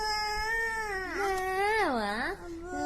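A 14-month-old toddler imitates a cat's meow, a drawn-out wavering whiny cry, close and clear, with a brief pause before a final rising note.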